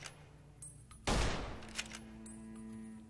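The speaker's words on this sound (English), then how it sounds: "Nothing like taking gunfire." Gunfire in the video game Fallout: New Vegas, a single sudden loud blast that decays over about half a second, followed by a lingering hum.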